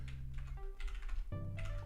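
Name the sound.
typing on a computer keyboard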